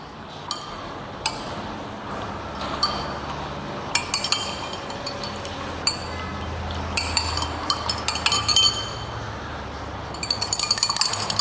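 Glass clinks and light tinkling taps as a solution is stirred in a glass beaker during a residual chlorine test, scattered irregular chimes over a steady background hiss, fairly close and moderate.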